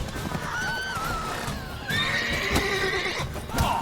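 A horse in The Witcher 3 whinnies in long rising and falling neighs over steady clip-clopping hooves, close and loud throughout, with a second louder neigh near the end and no talk.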